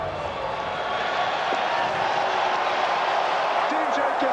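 Arena crowd noise at a 2025 World Junior Championship ice hockey semi-final between the United States and Czechia, a broad sustained roar of fans with scattered puck and stick knocks, under steady commentator talk.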